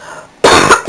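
A single loud, close cough bursts out after a quiet moment, sharp and harsh, followed by a short tail.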